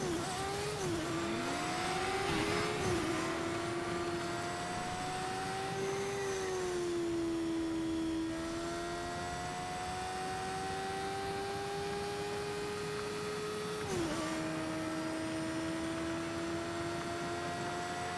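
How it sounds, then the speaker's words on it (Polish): A video game motorcycle engine drones steadily, its pitch rising and falling as it accelerates and shifts, with no talking over it. "jest motor, to sobie na niego wsiądziemy i sobie lecimy"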